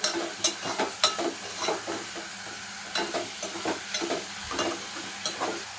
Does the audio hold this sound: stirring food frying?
yes